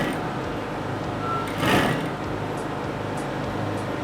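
A sewing machine stitches princess dart panels on fabric with a steady, close mechanical whir, rising briefly in loudness midway before settling back to an even hum.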